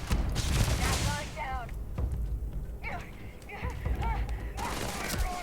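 Rifle gunfire from the video game Starfield, repeated shots in a combat firefight, heard under near-continuous talk from a player.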